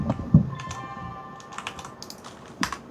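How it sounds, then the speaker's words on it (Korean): Keystrokes on a computer keyboard at a trader's desk, a short run of soft clicks and taps, fairly close and quiet, with no talking. "지금 키보드를 누르셨는데"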